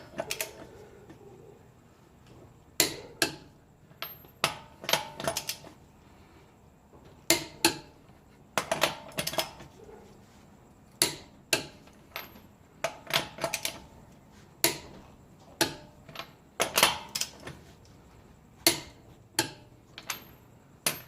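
A torque wrench tightening lug nuts to 100 foot-pounds gives sharp, close ratcheting clicks in irregular bursts against a quiet background, each stroke a quick cluster of metallic snaps followed by a short pause.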